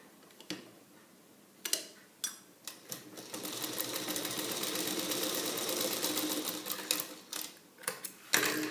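Domestic sewing machine stitching a fabric facing strip onto a garment neckline, starting with a few clicks, then running in a steady fast rattling whir for several seconds before slowing to scattered ticks and a final thump.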